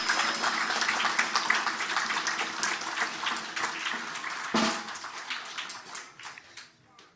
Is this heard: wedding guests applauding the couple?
yes